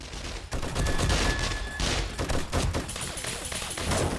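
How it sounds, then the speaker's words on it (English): Rapid, dense gunfire in the zombie survival game 7 Days to Die, loud, near shots and bursts overlapping continuously under a steady background roar, with no talk. "Peeps are getting their heads sniped."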